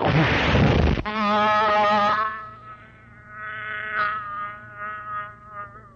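A loud, steady insect buzz like a mosquito in a comedy sketch starts after a burst of noise and continues as a wavering drone. The rising and falling pitch suggests a voice or effect imitating the insect.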